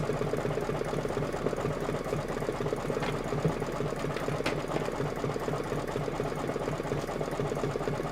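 A sewing machine stitches a quilt block with a steady, continuous hum that stays low in level and unbroken throughout.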